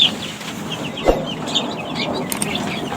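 Chickens cluck softly in a coop amid a busy background hiss, with a few brief higher calls scattered throughout; no voices.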